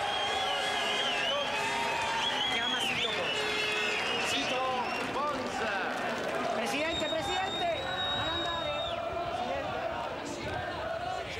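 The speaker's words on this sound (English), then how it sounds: "Italian fans have made their way down onto the front straight and are joining in with the celebrations" Crowd of Italian fans cheering, whistling and applauding on the front straight during Italian Grand Prix 500cc celebrations, a busy, distant-sounding roar with whoops and whistles under continuous commentary.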